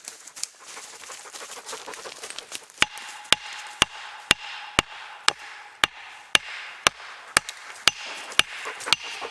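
Hardwood being chopped at a forest campsite, a sharp steady series of about fifteen loud, crisp strikes, roughly one every half second, over quiet outdoor background with faint birds.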